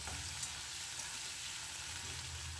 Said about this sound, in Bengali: প্রথমেই আলুগুলো হালকা করে একটু ভেজে নেব, ভেজে তুলব না।